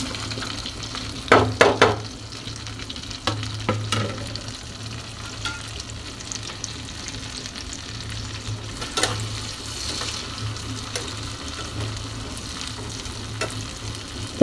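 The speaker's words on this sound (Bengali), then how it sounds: "চিংড়ি মাছের ভাজা তেল দিয়ে এখন আমরা পেঁয়াজটাকেও ভেজে নিব।" Onions frying in oil left over from frying shrimp, a soft continuous sizzle under repeated scraping and stirring knocks of a utensil against the pan, close by with no talk.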